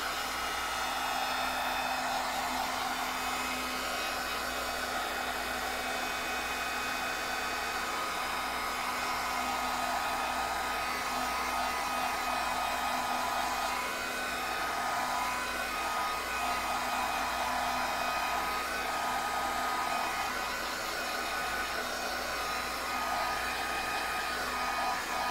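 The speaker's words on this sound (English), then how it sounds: "I'm gonna heat set this one more time to make sure it's pretty dry." A heat tool blows steadily while drying a scrapbook layout, a loud, constant whirring hiss that holds unbroken and alone with no talking.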